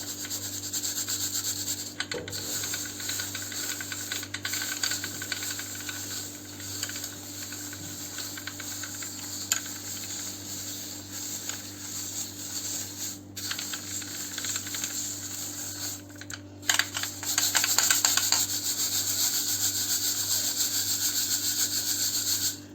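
Ground red chili flakes sifted through a metal sieve make a steady soft rubbing rasp, continuous and close, with a few louder scraping shakes near the end.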